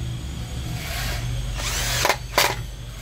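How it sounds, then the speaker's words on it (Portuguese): A magnetic-bit electric screwdriver drives screws into a mini food processor, its close motor whirring steadily and then breaking into two short bursts near the end, with street construction noise faintly underneath. "Essa minha parafusadeira já tem um bit dela já que já é imantado. Vou colocar aqui um por um os parafusos"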